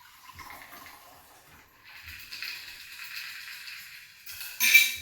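A winter whiskey sour cocktail is poured into a glass, a soft liquid trickle and stream that builds toward the end, finishing with a brief louder splash and a light clink.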